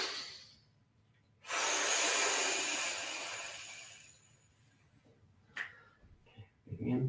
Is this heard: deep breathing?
yes